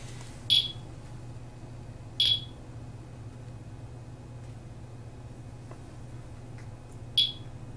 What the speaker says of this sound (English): every time something happens, it's going to do a little beep